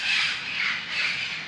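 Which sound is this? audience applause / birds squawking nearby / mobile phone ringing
birds squawking nearby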